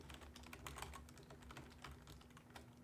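Steady, quiet clatter of typing on a computer keyboard, rapid irregular keystrokes continuing throughout with a faint background hum and no voices.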